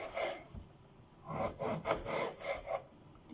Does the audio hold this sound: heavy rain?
no